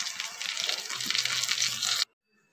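Tomato and green chilli paste hits a hot wok and sizzles loudly up close for about two seconds, a dense crackling hiss with faint voice murmurs underneath, then cuts off abruptly to silence.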